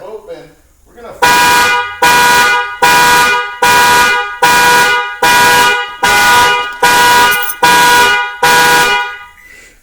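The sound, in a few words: car alarm horn honking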